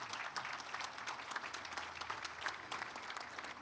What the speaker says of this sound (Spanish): les pido que lo recibamos con un fuerte aplauso